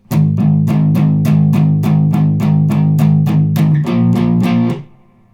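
Distorted electric guitar power chords chug in quick repeated strokes, then shift to a new chord and ring out before stopping.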